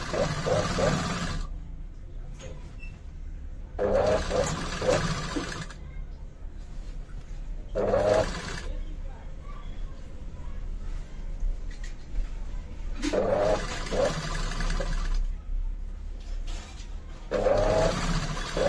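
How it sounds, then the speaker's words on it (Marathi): A sewing machine runs a double stitch on a katori blouse in several short bursts of quick whirring and rattling, with pauses between where someone talks. "आता मी ह्या शिलाईवरती डबल शिलाई टाकून घेते."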